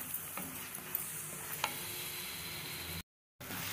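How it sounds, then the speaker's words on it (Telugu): Peas masala curry fries in oil in a pan, a steady close sizzle with occasional light clicks of stirring, then a brief cut to silence before the sizzle resumes. "ఇలాగా బాగా నూనె వదిలేదాకా వేయించుకోవాలి."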